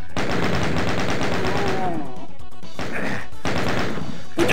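Rapid gunfire from the video game TNT: Evilution, dense automatic bursts with crashing impacts that fill the first two seconds, then break off into shorter volleys separated by brief gaps.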